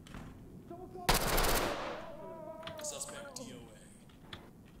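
A burst of video game gunfire with a loud, sharp volley, followed by lighter shots and game effects while people talk.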